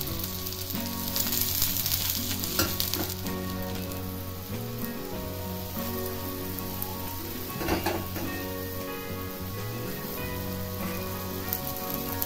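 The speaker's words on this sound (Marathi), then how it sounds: "छान असा भाजून घ्यायचा आलटून पलटून" Thalipeeth, a Maharashtrian flatbread, roasting in oil in a pan with a continuous close sizzle and scattered crackles, and a few louder bursts as it is turned.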